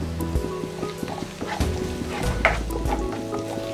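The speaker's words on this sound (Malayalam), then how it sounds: "ഇനി അടുത്തതായിട്ട് ഇതിലേക്ക് 1 ടേബിൾ സ്പൂൺ ഇഞ്ചി വെളുത്തുള്ളി ചതച്ചത് ഇട്ട് കൊടുക്കാം." Crushed ginger and garlic sizzle in hot sunflower oil with steady crackling and a low hum underneath, punctuated by a few scrape-like stirring knocks, close by.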